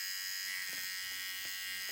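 An electric seam ripper buzzes steadily at close range as it removes stitches, a faint continuous high whine with a few soft ticking catches as threads are cut.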